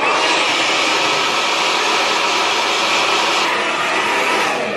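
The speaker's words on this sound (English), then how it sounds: "Let's get my hairdryer." A hairdryer blows steadily at full power, a loud continuous whooshing roar that barely changes throughout.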